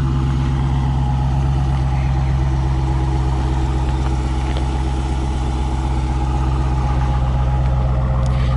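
Steady, loud idle of a 2015 Dodge Challenger Scat Pack V8, a deep continuous rumble heard up close with no voices.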